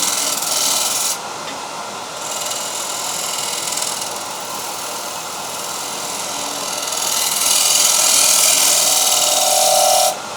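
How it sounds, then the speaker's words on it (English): Wooden platter spinning at high speed on a wood lathe while a burred scraper shears across its surface, a loud, steady rasping hiss that swells and eases as the cut moves, with no talking. "We're going to shear scrape this way."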